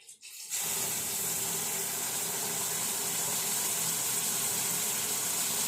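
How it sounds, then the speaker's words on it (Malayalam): Tea water poured into a hot pan for a homemade herbal hair dye bursts into a loud, steady hiss right after a short quiet start and stays constant to the end, with no talk. "അതിനകത്തേക്ക് നമ്മുടെ തേയില വെള്ളം മട്ടില്ലാണ്ട് അങ്ങ് ഒഴിച്ച് കൊടുക്കും"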